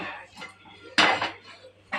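A pressure cooker is set down on a home stove, making one sharp metallic clank near the middle, amid lighter kitchen clatter and a faint low hum, with a softer knock at the end.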